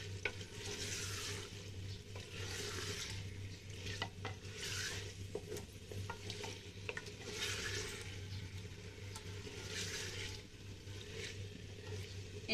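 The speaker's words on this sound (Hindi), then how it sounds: "इसको मिक्स करेंगे। इसको सिर्फ इतनी देर पकाना है कि गोश्त का रंग तब्दील हो जाए।" Mutton stirred in a pot over high heat for a Kunna Gosht recipe, a steady close sizzle and frying hiss with scraping spoon strokes and small clinks throughout, no talk.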